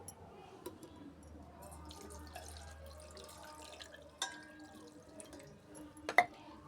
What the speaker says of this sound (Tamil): புளி போட்டு தண்ணி ஊற்றிடலாம்.